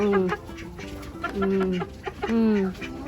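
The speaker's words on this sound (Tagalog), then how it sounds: "Ayan, sisiw lang to siya." A young chicken on a farm gives a few loud, clear, drawn-out calls close by, in short rising-and-falling bursts with brief pauses between them.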